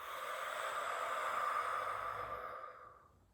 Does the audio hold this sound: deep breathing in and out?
yes